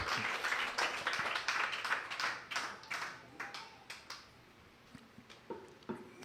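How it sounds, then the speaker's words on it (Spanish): A church congregation claps, starting as dense applause and then thinning into scattered individual claps that fade out toward the end. "Otro aplauso al Señor. Denle un aplauso."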